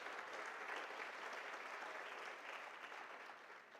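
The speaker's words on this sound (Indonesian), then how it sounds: "saya mau teman-teman kasih tepuk tangan dulu buat teman-teman kita dari GDG Bogor" Dense, continuous applause from an audience at a Google I/O Extended Bogor session, thanking the event organisers, fairly distant and quiet, tapering slightly at the end.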